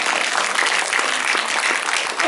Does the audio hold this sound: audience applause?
yes